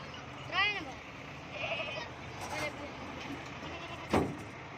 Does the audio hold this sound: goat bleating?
yes